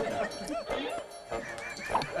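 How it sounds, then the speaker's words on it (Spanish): Several dogs bark and yip in short bursts behind people talking on a comedy news programme set, the barks fairly close but partly masked by the voices. "Nicole, A ver si callan los perros, muchachos"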